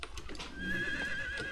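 A horse in the video game Assassin's Creed gives a single drawn-out whinny, a thin wavering cry held for about a second over steady game ambience.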